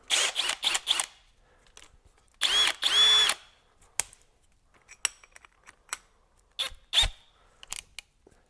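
A Hercules HCB92B 20V hammer drill with a 1-inch auger bit at speed 2 whirs in short, loud, close bursts, then goes quiet apart from scattered clicks and knocks.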